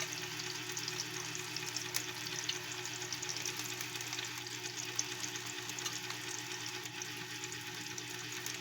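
Onion frying in cooking oil in a pan gives a continuous, even sizzle and crackle, moderately quiet and unbroken throughout, with no voices.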